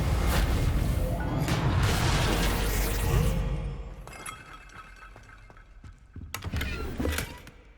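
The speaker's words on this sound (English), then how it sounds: "I know just the spell to repair this armor." A magical Reparo spell repairs a suit of armor in Hogwarts Legacy: a loud glassy, shimmering cascade of clinks and chimes sweeps for several seconds, then quieter metallic tinkles and a final bright burst.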